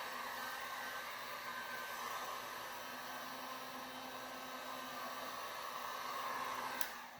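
A heat gun blows with a steady, even hiss as it warms carbon vinyl wrap on the lower door of a 1966 Nova. The noise is fairly quiet, unbroken, and nobody talks over it, before it cuts off sharply at the end.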